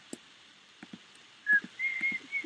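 A person whistles a few short, thin notes in a quiet room, with scattered soft clicks and taps around them and no talking.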